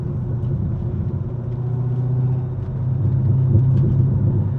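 A Chevy Corvette C6 Grand Sport builds a deep, steady engine rumble heard from inside the car as it accelerates through corners, swelling slightly louder toward the end.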